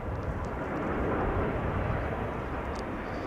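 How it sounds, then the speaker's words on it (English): A Delta Airlines jet arriving at Schiphol Airport gives a dense, steady jet engine roar that fills the scene, loud and continuous without a break. "This is Delta Airlines Flight 164, arriving from Minneapolis, Minnesota."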